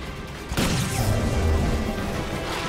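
In the Halo 5: Guardians video game, an anti-air defense power core is destroyed: a sudden heavy crash is followed by a loud, sustained rumbling roar.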